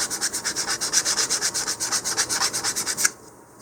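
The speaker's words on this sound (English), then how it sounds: "I'm kind of sanding off where that blob of" Quick, steady back-and-forth strokes of sandpaper rubbing off a blob of sanding sealer on a model rocket body, about two dozen close, even scrapes in a fast rhythm, then stopping abruptly.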